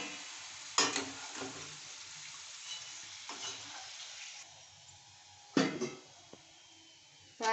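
Yam pieces fry in a hot pan while being stirred, a soft steady sizzle broken by a few louder scraping stirs near the start and again later, with no talking.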